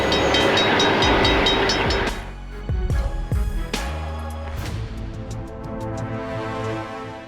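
A freight train rumbles past loudly and close, with rhythmic wheel clatter and a heavy low roar that eases off into a lingering mechanical hum.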